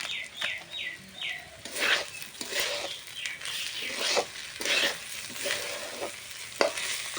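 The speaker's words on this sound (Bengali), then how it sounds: "এটা আমি প্রায় দশ মিনিটের মতো ভেজে নিয়েছি" Rice frying in a pan with ghee and garam masala powder, a steady close sizzle with scraping stir strokes at regular intervals and faint bird chirps in the background.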